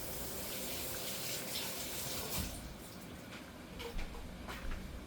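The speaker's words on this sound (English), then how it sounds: "so I'm just gonna give it a little rinse." Tuna rinsed under a running kitchen tap, a steady hiss of flowing water with a few brief splashes as the fish is moved under the stream, close and fairly quiet, no talk.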